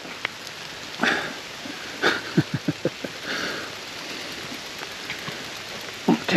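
Rain falls outdoors along a trail road crossing near a bench, a soft steady patter with a few sharper drops and scattered bumps, fairly close and alone without talk.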